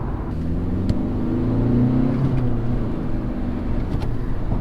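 An imported car pulls away from a stop, its engine making a low, steady rumble heard from inside the cabin, with faint road noise and a few soft clicks.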